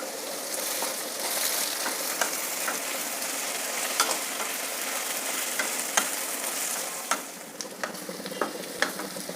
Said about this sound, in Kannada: ಈಗ ಬದನೆಕಾಯಿ ಕ್ಯಾಪ್ಸಿಕಮ್ ಬಟಾಣಿ ಮೂರು ಚೆನ್ನಾಗಿ ಫ್ರೈ ಆಗಿದೆ